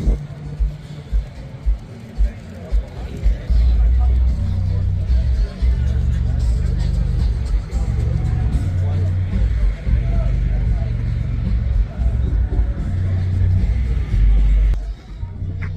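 Classic cars at the Kyalami race track Festival of Motoring rumble steadily nearby, with engine drone and passing-car swells under a continuous crowd babble and people talking close by.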